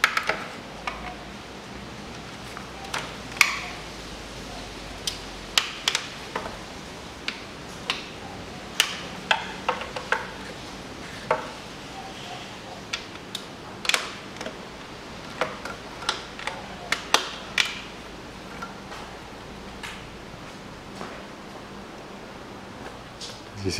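Faint, irregular ticks and clicks of a ratchet with a 13 mm socket loosening intake manifold bolts and nuts on a Peugeot 407 1.8 engine, spaced sporadically over a quiet hiss.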